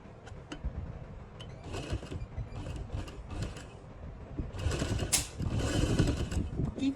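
A sewing machine stitching fabric in bursts, mechanical whirring and clicking that starts and stops several times, louder toward the end, with no talk.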